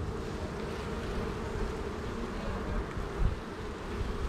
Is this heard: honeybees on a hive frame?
yes